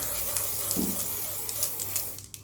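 A brief hissing spray from a Skin Aqua Tone Up UV sunscreen mist bottle, soft and close, ending abruptly.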